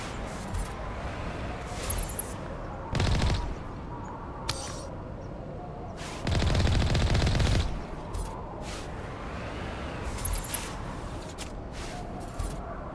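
Sniper rifle fire in Mass Effect: a few sharp, heavy reports stand out against a quiet background, including one longer, louder burst, with scattered faint clinks between them.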